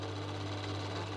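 An overlocker stitching a cushion seam runs at a steady fast drone with a low motor hum and even mechanical rattle, quiet and uninterrupted over a brief stretch with no voices.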